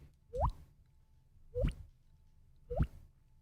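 Three separate wet, plopping drip sounds made with the mouth by a man imitating a dripping faucet, evenly spaced about a second apart, close and clear against a quiet room.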